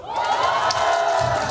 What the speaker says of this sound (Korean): 그럼 함성소리